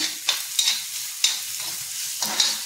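Tomato and onion fry in a pan with a soft, continuous sizzle, while a spatula stirs and scrapes in several quick, irregular strokes close by, with no talking.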